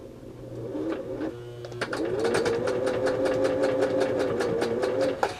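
A Singer 638 Touch and Sew sewing machine runs steadily with a piece of material in it, its needle clattering in a fast even rhythm after a brief slower start, close and fairly loud with no talk.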